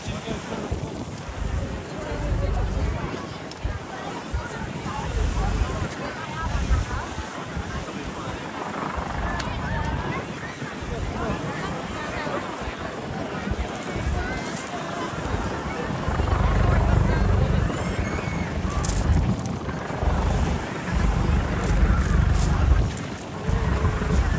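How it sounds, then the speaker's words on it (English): A helicopter drones steadily while hovering for a winching demonstration at an air show, heavy wind buffeting the microphone, the low rumble swelling louder toward the end while voices talk over it. "will give us a demonstration of winching from the helicopter in flight"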